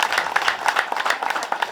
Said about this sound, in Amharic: አሁንም ለጌታ ሞቅ ያለ ጭብጨባ እስኪ በደንብ አጨብጭቡ።